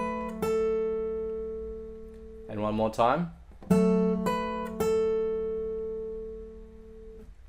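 Acoustic guitar notes from a song ring out as single plucked tones and sustained picked chords, clean and close, separated by a brief spoken instruction midway.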